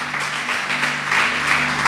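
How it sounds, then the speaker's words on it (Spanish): Spanish-speaking church congregation applauding during a sermon on Jesus calming the storm, a fairly loud, continuous patter of clapping over a faint steady tone from the hall, swelling slightly toward the end. "Dale un aplauso"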